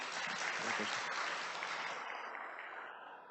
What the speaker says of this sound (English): So one more round of applause from him, please